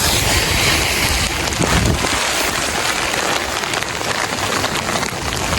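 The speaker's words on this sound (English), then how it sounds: "I can't see because the rain is in my eyes." Heavy rain pouring down in a dense, constant hiss and patter of drops on surfaces, close and loud, with wind buffeting the microphone and no speech.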